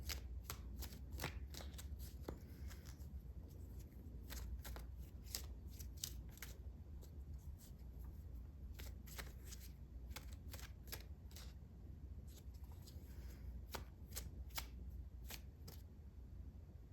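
Tarot cards being shuffled, a long run of crisp riffling flicks and soft slaps repeating in uneven bursts, close and alone without speech.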